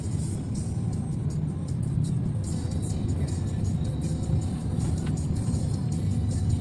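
Steady low rumble of car traffic on a congested main road leading to the Ampera Bridge in Palembang, engines idling and creeping close by with a continuous drone and no speech.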